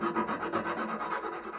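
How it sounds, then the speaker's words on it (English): A metal file rasps against a jewelry piece being trimmed at a repair bench, quick steady back-and-forth strokes, close and fairly quiet. "just trim it until it's very equal to the other ones, as close as you can get it"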